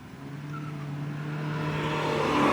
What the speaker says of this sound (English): road noise and engine noise does creep in and creates somewhat of an echo inside the cabin